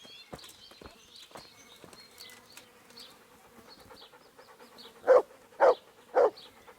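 A dog in the medieval game Kingdom Come: Deliverance gives three loud, short barks near the end, evenly spaced, after a stretch of quiet ambient buzzing and soft background sounds.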